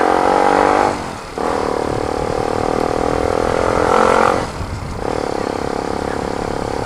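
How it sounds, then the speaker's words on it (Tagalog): A motorcycle fitted with a new, fairly loud muffler idles close by with a steady rumbling drone, briefly dipping in level twice before settling back. "Medyo maingay motor natin ngayon. Medyo buhay ang kanyang tunog. Dahil palit tayo ng kanyang muffler."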